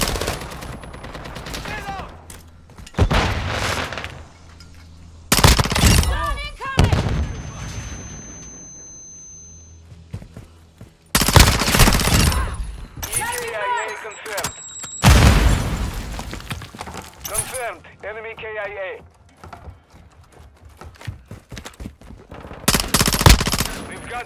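Call of Duty: Modern Warfare 2 gunfire: loud bursts of automatic weapons and single shots break out repeatedly with booming impacts between quieter gaps, while occasional voices call out during the battle.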